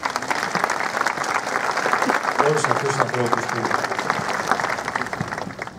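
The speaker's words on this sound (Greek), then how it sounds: "Ένα χειροκρότημα, δηλαδή πρέπει να χειροκροτάμε" An audience at a concert in Chania applauds, with steady dense clapping filling the space while someone speaks over it through a microphone.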